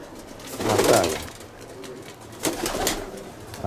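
Greek pigeons cooing nearby on a hot summer day, two soft rolling coos a second or so apart over quiet background noise.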